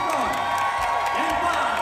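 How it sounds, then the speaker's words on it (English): Big theater crowd at the Belasco in downtown Los Angeles applauding, cheering and whooping in a sustained, dense roar before a rock show intro, with a voice and music tones carrying over the noise. "let's start with a massive round of applause"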